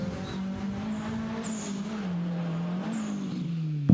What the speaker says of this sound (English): Pushing that S13 to its limits.